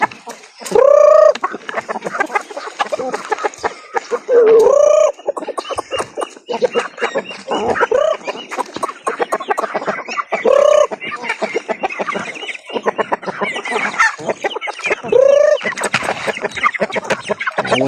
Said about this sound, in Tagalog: ipakaon kay medyo nagutom na ning mga manok ato